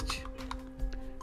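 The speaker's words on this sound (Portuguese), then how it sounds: "A gente vai abrir aqui o nosso navegador e vai digitar aqui, ó, localhost" Typing on a computer keyboard, a quick run of close, light key taps in an uneven rhythm over a faint steady hum, with no voices.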